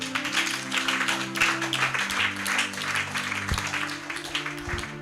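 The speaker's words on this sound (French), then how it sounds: "Quelqu'un acclame le Seigneur." A church congregation bursts into sustained applause and acclamation at a Bible teaching, a steady wash of clapping with a low sustained tone underneath, filling the space throughout.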